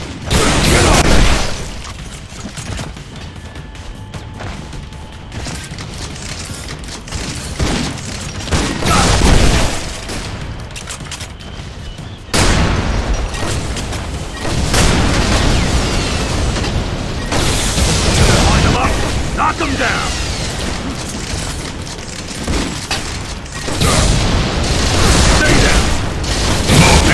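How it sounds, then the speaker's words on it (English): Gunfire and explosions in Unreal Tournament 3 team deathmatch come in repeated loud bursts and booms across the whole stretch, with mechanical weapon clatter and short voice callouts mixed in. "I'm taking heavy fire!"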